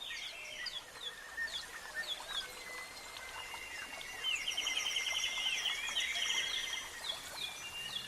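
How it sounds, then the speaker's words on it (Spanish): Birds sing and chirp continuously inside a palace grotto in Austria, with bright overlapping tweets that grow busier and fuller in the second half, set against a soft, steady background hush. "arropado por el sonido del canto de los pájaros"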